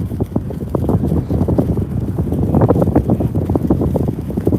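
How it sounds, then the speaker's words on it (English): Wind buffets the microphone at an outdoor car event near a race finish line, a loud continuous rumbling roar with gusty surges throughout. "Oh boy, there's the wind."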